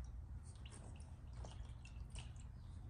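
Water drips and trickles from a Dodge Daytona motorcycle, a run of soft, scattered drips and splashes over a steady low rumble of background noise, fairly faint and without any talk.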